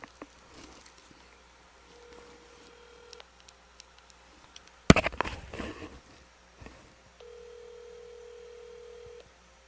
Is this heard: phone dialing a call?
yes